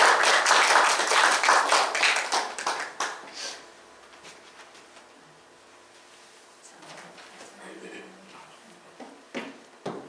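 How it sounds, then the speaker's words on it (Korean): Church congregation applauding during a Korean Sunday worship service, a loud burst of clapping at the start that fades within a few seconds, followed by quieter room sounds and scattered handling noises. "우리 한번 박수로 환영하도록 하겠습니다."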